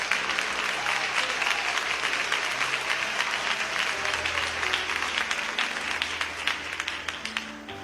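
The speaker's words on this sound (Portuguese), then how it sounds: "podem glorificar a Deus com as palmas" A church congregation claps steadily for about eight seconds during a worship service, a dense continuous wash of many hands at fairly loud, even level with no talk over it.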